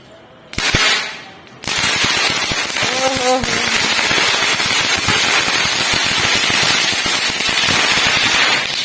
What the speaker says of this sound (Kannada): ನೋಡಿ ಇವ್ರು ಪಟಾಕಿ ಹಚ್ತಾರಂತೆ